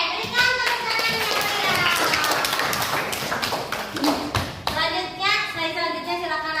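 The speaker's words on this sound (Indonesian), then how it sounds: "Oke, berikan tepuk tangannya." Students in a classroom clap their hands, steady crowded clapping under overlapping children's voices and chatter, continuing throughout.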